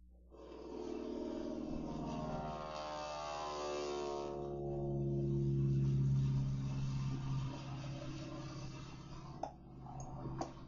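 An AT-6 propeller trainer airplane drones past at a busy airport, its engine tone rising then sliding lower as it passes, a steady rumbling roar fading toward the end.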